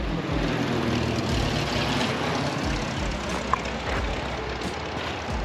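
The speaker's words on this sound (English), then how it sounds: "Airplane." A fixed-wing airplane passes overhead above a neighborhood trail, its steady engine drone broad and continuous at moderate distance, without any talking.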